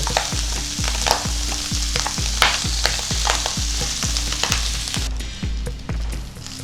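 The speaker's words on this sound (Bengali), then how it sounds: "একটু নাড়িয়ে চাড়িয়ে ভাতটা দিয়ে দিচ্ছি।" Rice being stirred into ghee in a pan for Bengali ghee bhat: a regular run of knocking spoon strokes against the pan, roughly two a second, over a loud close sizzle, with no voices.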